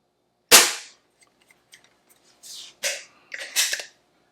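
An Umarex Trevox air pistol fires one sharp, loud shot indoors on a 10-meter range, followed by quieter clicks and a few short mechanical clacks and rustles as the pistol is handled.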